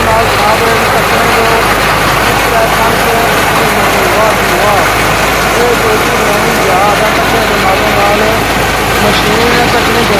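A tractor engine just started and running during the wheat harvest in Dadyal. It makes a loud, steady continuous rumble for the whole stretch, with someone talking over it.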